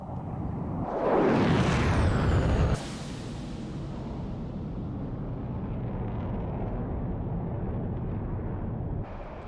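A Mirage 2000 bombing run in a flight game: loud jet roar rises sharply, then a heavy bomb blast cuts in and leaves a broad, sustained rumble that continues to the end.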